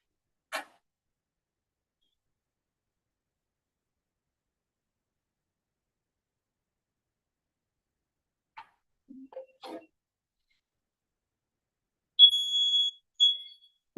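A drainage gas detector in a student demo sounds its alarm: a few soft clicks in near silence, then a short series of clear electronic beeps at the end.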